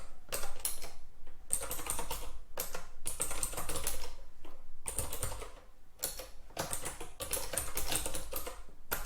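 Rapid clicking keystrokes on a computer keyboard as a telnet command is typed, in irregular bursts with short pauses, close and steady with no talking.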